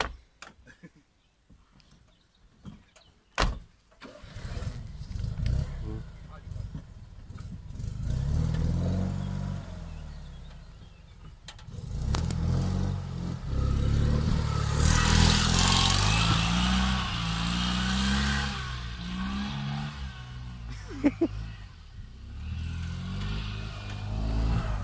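A Fiat 126p, run for the first time in three years, gives a few clicks and sputters, then catches and idles with a rough, uneven putter. The small engine revs up repeatedly in surging bursts before settling, loud and nearby.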